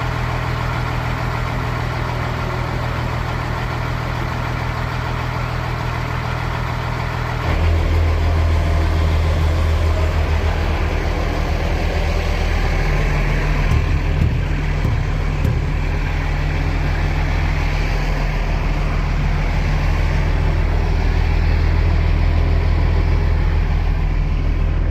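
A truck engine runs steadily at a low rumble, close and loud, and deepens and thickens partway through before holding an even drone to the end.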